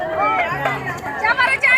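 A crowd of customers at a weekly Diwali market in Mandavgan Farata, a busy hubbub of many voices close by, with talk and general chatter running through the whole moment.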